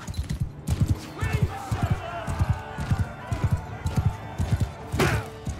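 Horse hooves striking and bumping an enemy during a mounted fight in the game Mount & Blade 2: Bannerlord, a steady run of thudding hoofbeats with clangs and shouts, mixed under continuous talk.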